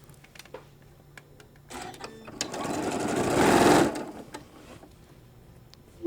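A sewing machine stitching a fabric shoulder bag runs in a short, close burst of rapid mechanical whirring, with quiet handling clicks before and after and no talk.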